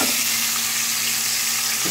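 Pork chops fry in a little oil in a pan, a continuous close sizzle that stays even and fairly loud for a couple of seconds.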